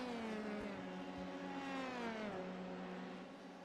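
Race cars accelerate during a quick qualifying session at a road course, a high, strained engine whine sweeping in pitch as it climbs and shifts, heard from a distance with no talking.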